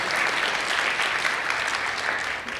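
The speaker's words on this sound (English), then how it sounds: "You can clap if you want to" Conference audience applauding after a software demo, a dense and even wash of many hands clapping from a room full of people, steady throughout without talk.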